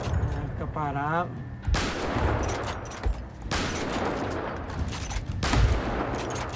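Rapid bursts of GTA roleplay gunfire crackle across the clip, repeated loud shots with a few heavier booms standing out, over busy background game noise.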